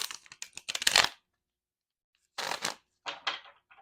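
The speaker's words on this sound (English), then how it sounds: "Oh, one more shuffle." Tarot cards are shuffled in crisp bursts of riffling and flicking, a quick cluster, a silent pause, then two more shorter rounds.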